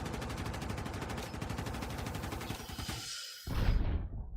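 Rapid gunfire and explosive air strike blasts in the Battlefield 6 video game, a dense continuous barrage that cuts out briefly before a heavy low boom lands close by.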